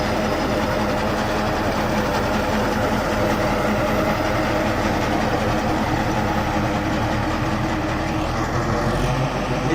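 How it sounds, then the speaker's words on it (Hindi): A tractor-operated Sardar reaper binder machine cuts wheat in the field, its engine and cutting mechanism producing a steady, loud mechanical drone throughout with no talking. "इस रीपर मशीन से आप 1 घंटे में 1 एकड़ से भी अधिक गेहूँ की कटाई कर सकते हैं"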